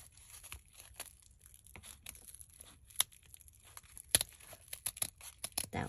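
Scissors snip and rustle through fluffy craft material for a Christmas tree embellishment, a faint, close run of irregular crinkling cuts and soft tearing with a few sharper snips.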